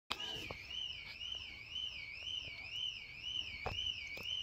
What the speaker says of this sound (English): Sounds like my car alarm